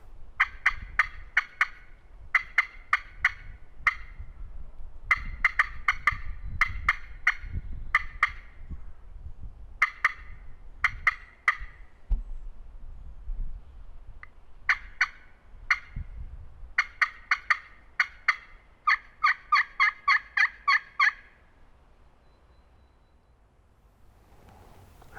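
A hunter's turkey gobble call, imitating a wild gobbler on Tennessee public land, sounds in repeated rattling bursts, loud and close, with short pauses between series and a quick run of sharp notes near the end.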